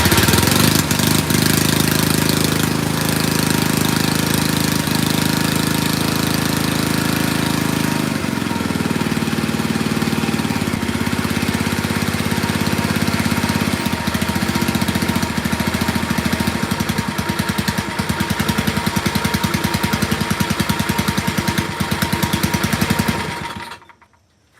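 A Tecumseh small engine on an abandoned farm-built machine, running partly choked, roars loudly and roughly with uneven knocking, shifts pitch partway through, then cuts off abruptly near the end.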